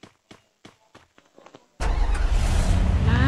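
Car engine in Garena Free Fire starts up abruptly after a few soft footsteps, then holds a loud, steady, broadband rumble close up.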